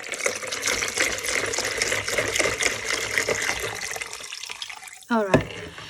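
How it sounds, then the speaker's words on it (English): Water pours from a tap into a container being filled for paper marbling with acrylic paints, a steady rushing splash that stops near the end, followed by a short voiced sound. "And add more water."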